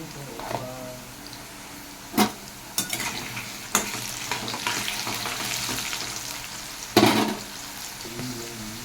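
Potatoes hit hot oil tempered with chilli and bay leaf in a kadai, giving a steady sizzle with several sharp spoon scrapes and clanks as they are stirred, with no talk.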